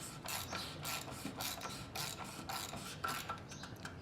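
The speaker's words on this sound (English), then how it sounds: "I'm gonna take my ratchet, I'm gonna tighten it until it gets tight," A hand ratchet tightens an engine's oil filter housing during an oil change, giving a steady run of close, crisp metallic clicks in repeated bursts for about four seconds.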